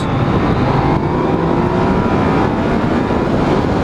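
A loud 2016 Yamaha XSR 900 motorcycle engine drones and climbs steadily in pitch as it accelerates, mixed with heavy wind rush, with no speech.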